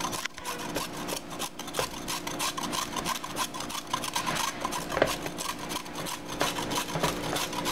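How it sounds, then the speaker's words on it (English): A carrot is rubbed against a handheld grater in quick, continuous, rhythmic rasping strokes, close and alone, for a crab meat salad. "And then I take a grater like this to give it that long springs like this."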